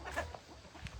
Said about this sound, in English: See the chickens, they get in and out.